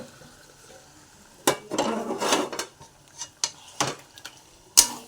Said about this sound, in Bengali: ম্যারিনেশন করা মাংসগুলো দিয়ে দিচ্ছি।